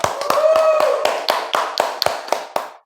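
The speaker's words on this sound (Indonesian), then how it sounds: "Aplaus lagi buat Ajis yuk." A small audience claps for a guest on a Daihatsu sales show: a short round of sparse, sharp handclaps at a steady pace, close and fairly loud, thinning out and stopping within a few seconds.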